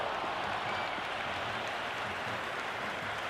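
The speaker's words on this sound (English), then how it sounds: "There's a buzz, a real buzz coming from the stands." A stadium crowd cheering in the cricket video game Cricket 26, during a Peshawar versus Quetta match: a steady, dense wash of crowd roar and applause-like noise, continuous and even throughout with no talk.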